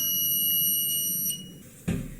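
An electronic water filler gives a high, steady beep tone that stops partway through, followed by a brief thump of handling noise.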